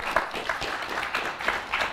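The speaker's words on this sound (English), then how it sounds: "Clap if you think it's good." Audience clapping in a quick show-of-hands style poll at a travel industry talk, a dense moderate patter of many hands lasting throughout, with slight surges and no voices over it.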